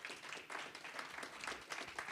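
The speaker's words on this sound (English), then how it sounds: "if you could give them a round of applause" A round of applause for panelists at a community law school event, steady dense clapping that sounds moderately distant and holds evenly throughout without any talking.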